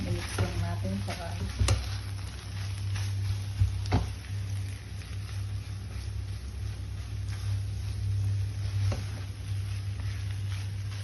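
Korean fermented squid is stirred in a pan, with soft scraping and gentle sizzling over a steady low hum; a few sharper knocks of the utensil stand out early, and the mixing sounds continue evenly throughout.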